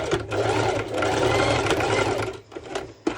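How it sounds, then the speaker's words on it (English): A sewing machine runs a straight stitch over an elastic band on a ruffled underwire top, a close, steady motor hum in two bursts that then stops, followed by small handling clicks. "So I do the same, a straight stitch over."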